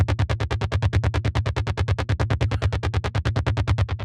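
A Roland SH-101 style arpeggio patch plays in Omnisphere with effects switched on: rapid, evenly spaced synth notes pulse about eight times per second with a smooth, rounded tone, heard alone and close.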